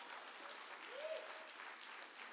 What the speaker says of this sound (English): So you should give yourselves a round of applause for still being here in this hour.